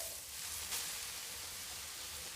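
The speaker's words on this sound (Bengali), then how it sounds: "এই যে লাউ শাক ভাজবো" Bottle gourd greens fry with garlic in a pan, giving a steady, even hiss of sizzling oil throughout, with no talking.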